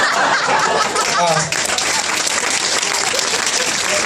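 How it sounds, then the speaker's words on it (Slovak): An audience applauds at a live stand-up comedy show in a club, dense and sustained clapping, loud and close, with faint chuckles mixed in. "odkážem potlesk týmu, ktorý na to prišiel"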